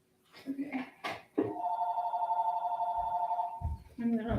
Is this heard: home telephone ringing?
yes